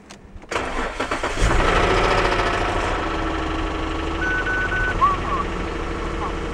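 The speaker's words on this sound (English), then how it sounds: "Start the car." A 2004 Nissan Stagea 350RX cranks briefly, catches and settles into a steady mid-pitched idle, close and continuous, after the radiator fan replacement.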